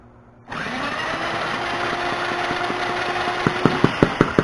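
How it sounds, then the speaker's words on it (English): A small power drill, fitted into the spark plug hole, spins up suddenly and whines steadily as it turns an engine over. Near the end, a quick run of sharp, regular pops breaks through. "I'm going to get my little power drill here"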